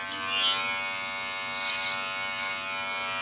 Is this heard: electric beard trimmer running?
yes